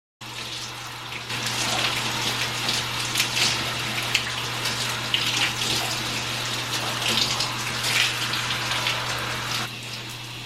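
Water running steadily from a tap while curly hair is washed in a shower, a continuous close rushing gush with faint splashing and hand movement through the hair, no talking.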